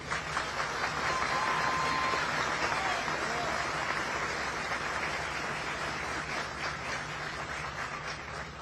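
An audience claps steadily at a statue unveiling ceremony for volleyball player Eda Erdem Dündar, honoring the Fenerbahçe women's volleyball team, coaches and staff; dense, sustained applause from a crowd without talk.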